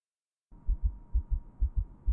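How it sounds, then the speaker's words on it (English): Loud, steady heartbeat from the video game Without a Dawn, a close low double-thump pulsing about every half second after a brief silence, with a faint hum beneath. "Because that heartbeat's a little loud."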